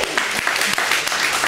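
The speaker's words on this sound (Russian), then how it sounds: "Аплодисменты нашей гости, дорогие друзья." A studio audience on a Russian television talk show applauds the guest, a singer, with brisk, dense clapping from many hands, loud and close, filling the whole short stretch.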